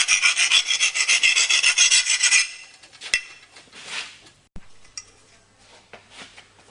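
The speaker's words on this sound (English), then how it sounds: "as always with filing, use the full length of the file. And we're just removing those unfriendly edges" A half round file rasps burrs off the edge of a metal air cannon barrel clamp, about a dozen quick close strokes that stop, followed by faint clinks and handling.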